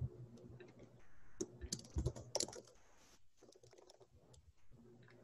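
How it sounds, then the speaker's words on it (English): Fingers type on a computer keyboard in a quick, irregular burst of close, crisp key clicks, then slow to a few scattered taps, all fairly quiet and with no talking. "I'll type in brainstorm."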